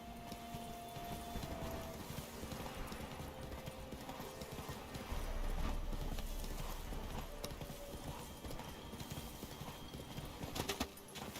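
Hooves clip-clop in a fast, steady rhythm as a horse gallops in The Witcher 3, close and continuous under a low ambient game soundscape.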